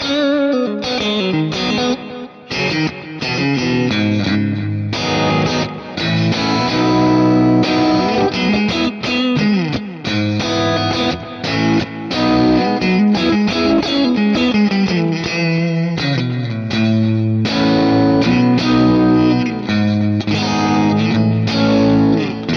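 Stratocaster electric guitar played through a Kemper with a green mid-range boost drive pedal, a lightly pushed, slightly gritty tone in continuous melodic phrases and chords for over twenty seconds, loud and alone without voices.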